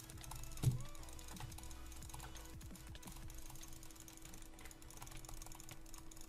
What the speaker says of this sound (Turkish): Büyük ihtimalle mouse'un sesini duyacaksınız siz zaten.